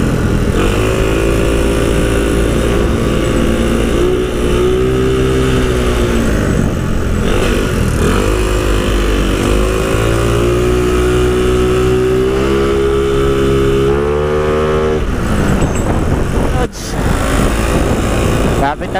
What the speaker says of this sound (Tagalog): Ito, mga motor ng enforcer oh.